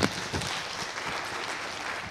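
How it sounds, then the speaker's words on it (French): Audience applause welcoming a jury member at a university competition final, a steady, full wash of clapping that starts with a sharp onset and continues evenly for a couple of seconds. "je vais vous demander de les applaudir bien fort, Isabelle Demachy"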